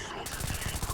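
Rapid hip-fired SMG bursts in Starfield, a quick run of sharp, evenly spaced shots filling the moment, loud and close with no talk over them.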